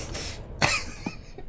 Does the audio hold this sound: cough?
yes